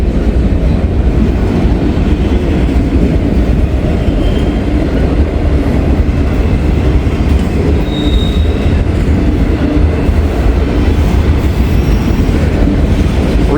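A single locomotive hauls a long, heavy train, a steady loud rumble of wagons rolling past up close with wheel squeal and a faint clickety-clack running throughout, no voices.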